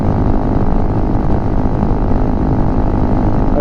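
Honda CRF300L Rally on stock gearing, its single-cylinder engine cruising at 65 mph around 6,500 RPM, gives a steady, loud, unbroken drone mixed with wind rush and no talking.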